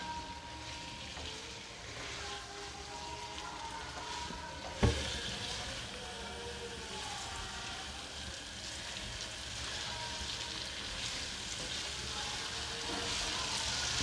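Raw mango pickle curry gets stirred into spices in a pan, with a soft continuous sizzle and scraping of the spoon, one sharp clack of utensil on pan partway through, steady and fairly quiet throughout.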